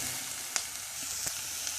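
Onions and garlic softening in a frying pan give a quiet, continuous sizzle with a couple of faint clicks, heard alone without talking.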